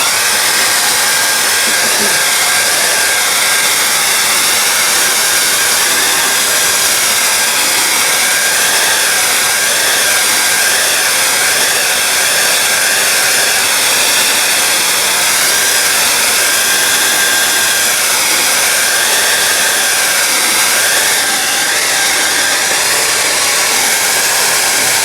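A blow dryer blows over a watercolor painting in a steady, loud whooshing hum that runs unbroken for about twenty-five seconds with no talking.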